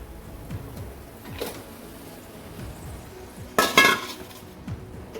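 Marinated mutton goes into a pan of softened, reddened fried onions for a Kolhapuri mutton curry: soft scraping and tapping, then a brief loud clatter and sizzle of metal utensils nearby.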